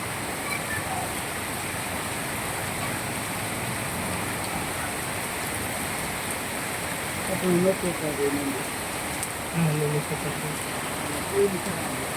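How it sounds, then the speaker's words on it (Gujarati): Heavy monsoon rain falls steadily in Gujarat, a dense, even hiss of downpour that fills the whole stretch, with a few faint scattered sounds rising briefly near the end. "બધી બાજુ વરસાદ ચાલુ જ છે"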